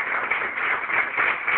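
Audience applause at a cultural event in Villa el Salvador, a steady wash of many hands clapping, sustained and fairly loud, sounding muffled and band-limited.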